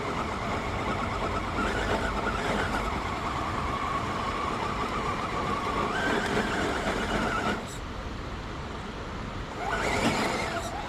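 An RC scale truck on NotFoams tire inserts revs and bounces to pull its back tires out of loose dirt, a steady close motor whine that surges in short bursts, with no talking.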